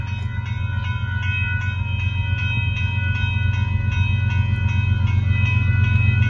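A northbound CSX grain train passes Dittmar Road in Austin, Texas, with a loud, steady, close rumble and a faint tonal ring that lasts throughout.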